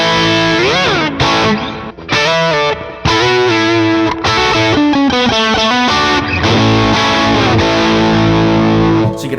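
Electric guitar through an amp with gain turned all the way down and volume nearly all the way up, giving a loud, saturated distorted tone; a busy riff of bent notes and ringing chords plays continuously without talk.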